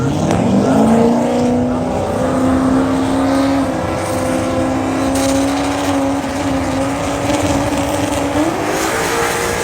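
A Coyote-swapped Foxbody drag car at a race event, its engine roaring loud and sustained at full throttle down the track, pitch climbing steadily throughout.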